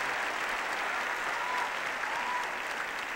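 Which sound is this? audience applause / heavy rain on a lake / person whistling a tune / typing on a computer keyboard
audience applause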